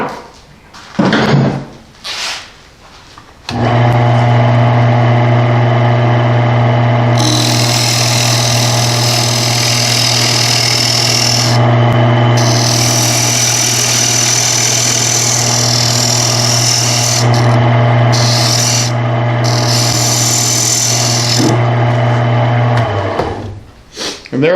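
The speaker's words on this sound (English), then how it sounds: "take my skew to my tenon here, put a little bit of an angle on it so the chuck has something to grab onto" Skew chisel cutting a tenon on a bowl on a wood lathe, a loud steady motor hum with a scraping cutting noise that comes and goes over it, after a few knocks at the start.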